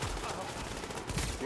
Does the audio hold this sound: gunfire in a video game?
yes